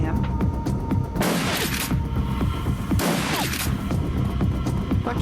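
Shotguns fire in the game Shadowrun: Dragonfall, two heavy blasts a couple of seconds apart over a low, steady background hum.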